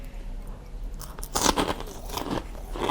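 Crunchy bites and chewing of pork rinds eaten with northern Thai nam prik num green chili dip at a local market stall, several crisp crackling bursts up close with no talking.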